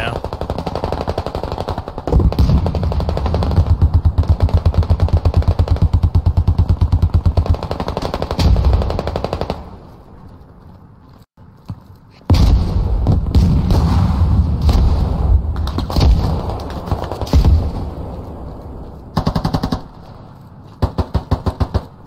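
Heavy, loud barrages in the military game Squad, with a Hell Cannon firing amid dense rapid gunfire that roars in long continuous stretches, broken by a brief quieter lull and occasional booms.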